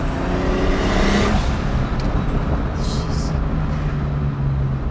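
A turbocharged BMW 2002 with an E30 engine swap accelerating, a loud close engine roar with rising tone early that settles into a steady drone under wind and road noise, plus a few brief higher whooshes.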